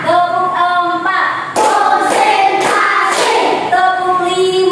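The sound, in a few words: hand clapping pattern, class ice-breaker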